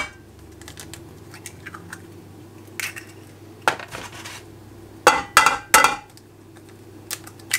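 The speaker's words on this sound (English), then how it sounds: "3 eggs into the cold pan." Three eggs cracked into a cold pan while bacon cooks for a keto breakfast: a few sharp, isolated taps and clinks stand out over a low, steady kitchen hum.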